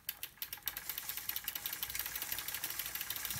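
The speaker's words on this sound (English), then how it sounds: "The engine does kick in." The electric motor of a Giant Revive Spirit pedelec under conversion runs fairly quietly, with fast, even pulsing ticks and a whirring buzz that go on steadily throughout.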